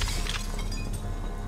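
Glass shattering in a dense, loud burst of breaking and tinkling fragments, set off by an explosion in the video game Project IGI, filling the whole moment with no voices.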